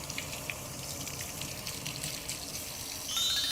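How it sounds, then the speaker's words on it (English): Warm water runs from a tap as hands are rinsed beneath it, a close, steady splashing rush that swells briefly louder near the end. "Now I'm going to rinse thoroughly with warm water again, making sure to rinse every part of my hands."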